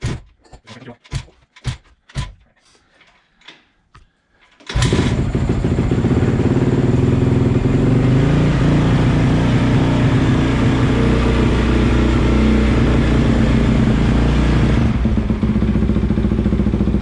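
A 2017 Honda CRF 450 dirt bike with a fresh top end, fired up after a few sharp clanks and then held at a loud, steady high idle close by for the rest of the stretch.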